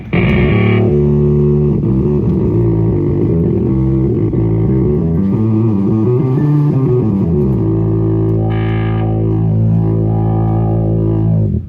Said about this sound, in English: What I love to do with this pedal is turn the sub way up and put a little low pass on